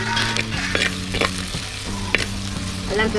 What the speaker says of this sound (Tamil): நசுக்கி வச்சு பூண்டு போட்டுக்கணும்